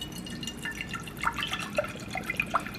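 Fiji bottled water being poured into a cooking pot, heard as soft irregular drips and splashes that grow a little busier over a few seconds, fairly quiet and close, with no talking.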